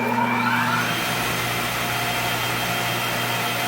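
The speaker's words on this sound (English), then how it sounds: "So I'm going to demo the vacuum blowers." Vacuum blowers on a 1325 rotary-axis CNC router table run with nothing on the bed, air leaking through the MDF spoilboard, giving a steady, loud broadband roar with a low hum that holds constant throughout.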